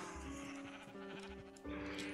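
Minecraft sheep bleat repeatedly in a quick series of short, nasal, wavering calls, clear and close, with no talking over them.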